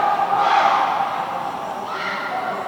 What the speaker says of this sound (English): Australian fans are loud.